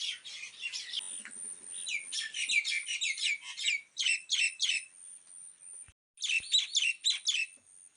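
Sintoliya birds squabble in a garden, trading rapid bursts of sharp, high chirps in quick clusters, close and lively, with short gaps between volleys and a brief lull before a final flurry.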